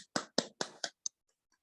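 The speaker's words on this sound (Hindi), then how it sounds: "जोरदार तालियां।" A few sharp hand claps from a meditation session group, about five quick, evenly spaced strikes close by that break off abruptly and trail into faint scattered taps before quiet.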